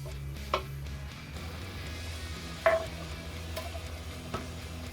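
Tomatoes cooking in a pan, softening over a low steady sizzle, with a few scattered spoon scrapes and taps as they are stirred, close and fairly quiet, no talking.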